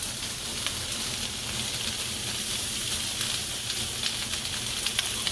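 Squeezed jarred garlic sizzles in a hot pan, a steady, close, crackling hiss with faint pops that continues without pause.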